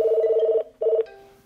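An electronic telephone ringer sounds two warbling bursts close by, a long ring followed by a short one that breaks off, leaving a faint hum. No one speaks.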